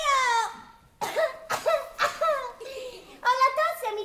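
A performer in an Italian stage play coughs several times in short, voiced bursts, some drawn out and almost sung. The coughs are close and clear, with brief pauses between them.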